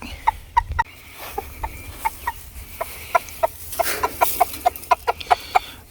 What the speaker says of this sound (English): Let's see what the chickens are up to today.